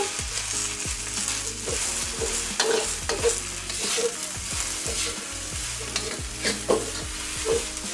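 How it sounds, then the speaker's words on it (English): Holy basil is stirred into beef fried rice in a hot pan, giving steady close sizzling with repeated scraping and clattering stir strokes throughout, no voices. "Gonna drop in the holy basil. And just stir it in."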